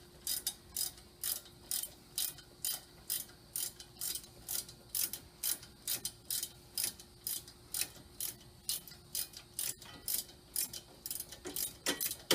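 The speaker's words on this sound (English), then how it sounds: "get my ratchet on there, and make sure you're set to loosen. You're just gonna loosen this up." A ratchet loosens the long brake caliper bolts on a 2012 Ford Focus, giving a long series of crisp, close clicks in regular bursts as the handle swings back and forth, with no talking.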